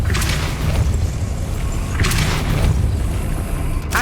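Depulso spell casts in the Hogwarts Legacy video game, a few sharp whooshing bursts with booming thuds, spaced roughly two seconds apart over a low rumbling bed of game sound.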